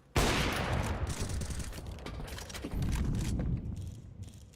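Rapid pistol fire in Counter-Strike during a professional CCT Europe match, with a dense spray of sharp shots that swells again midway and keeps going throughout.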